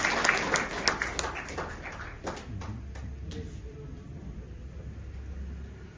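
A burst of audience clapping at a Brahma Kumaris service centre's silver jubilee in Chandigarh, strongest at the start, settles into a steady, softer patter with a low rumble beneath.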